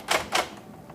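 A typewriter clacks twice in quick succession, two sharp close keystrikes followed by a faint third tap, with no talking.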